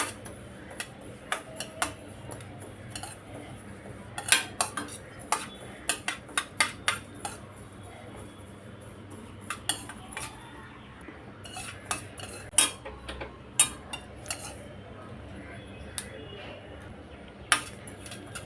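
Mustard dal and fennel seeds are lightly roasted in a kadhai, and a metal spoon stirring them makes a steady run of sharp clinks and taps over a soft background hiss, fairly close and clear.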